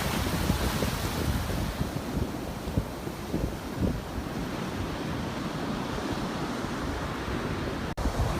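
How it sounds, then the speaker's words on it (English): Big, rough ocean waves crash continuously onshore in high wind, a loud, dense roar of surf with wind buffeting the microphone throughout. "These are some crazy big waves"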